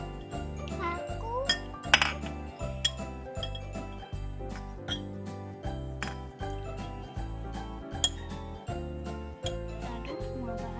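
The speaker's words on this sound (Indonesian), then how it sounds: "Aduk semua bahan jadi satu, diaduk banyak." A spoon stirring basreng chip ingredients together in a bowl clinks and taps in a steady rhythm, close and fairly quiet, against a soft background.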